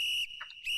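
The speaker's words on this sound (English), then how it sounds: "Don't we have just a whistle for one?" A referee's whistle sound effect marking the start of a football match's second half, a steady shrill tone cut by a short gap and then resuming, loud and alone.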